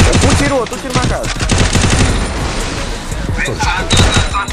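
Rapid bursts of gunfire from the Free Fire battle-royale video game in a 4v4 match, loud and close, with rattling automatic shots and thuds, a player talking over the action.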